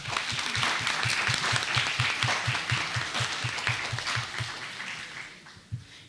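Sustained applause from an academic colloquium audience, dense steady clapping that carries on for several seconds before tapering slightly near the end.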